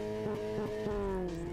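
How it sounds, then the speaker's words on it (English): A powerful car engine revs in an underground space in the video game Steins;Gate 0, a loud sustained harmonic roar with a few quick pulses early on, then a steadier drone that eases slightly in pitch. "The sound of a powerful engine shook the underground air."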